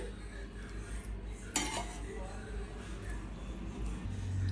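A utensil stirs mutton biryani marinade with salt and oil left from frying onions, making low scraping and one sharp clink against the vessel, with a faint voice in the background.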